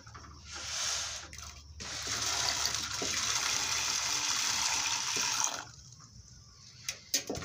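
Chana dal lentils poured into pre-heated water in a pot, a steady rushing splash lasting several seconds before tapering off into quieter clinks.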